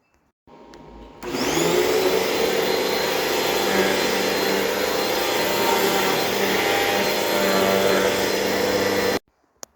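A loud, steady engine drone from a 2022 third-generation Suzuki Hayabusa motorcycle with stock exhaust starts after a brief quiet moment, idling continuously with a harsh, buzzing tone before cutting off abruptly near the end.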